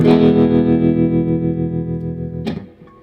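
An electric guitar strikes an open chord through a wavering tremolo effect with distortion. The chord rings out and slowly fades, then a second strum comes near the end.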